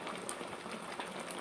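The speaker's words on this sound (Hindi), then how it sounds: "ये चीनी आ गई और इस चीनी को भी मैं पका लूँगा" Sugar and milk powder mixture cooking in a pan for mango barfi, a faint, steady bubbling and sizzling with tiny pops throughout, no talking.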